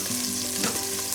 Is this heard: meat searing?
yes